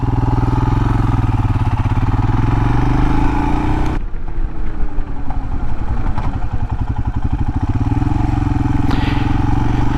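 Royal Enfield Himalayan motorcycle ridden on everyday roads, its single engine thumping steadily, then a sharp drop in load around midway before the pulsing engine note carries on, close and loud with no talking.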